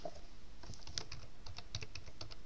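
Quick bursts of keystrokes on a computer keyboard as text is typed, close and clear with irregular clicking rhythm and no talking.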